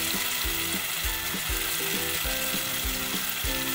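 Red chili powder and masala frying in oil for a fish curry give a steady, dense sizzle throughout, with rhythmic scraping and stirring clicks from the pan repeating underneath.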